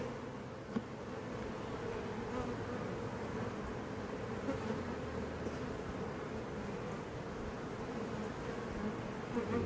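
A honey bee swarm at a backyard hive, settled into a new home with fresh comb on a foundationless frame, makes a constant, dense buzzing hum that stays even and fairly quiet throughout.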